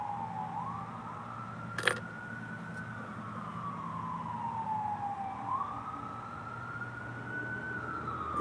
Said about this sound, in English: There's a siren right now.